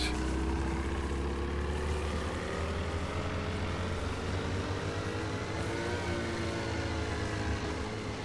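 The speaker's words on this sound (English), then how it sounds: "The engine's still running. We're still in forward," A boat engine in the DayZ video game runs steadily and loud, its drone rising slightly in pitch as it accelerates, with water wash over the whole stretch and no one talking.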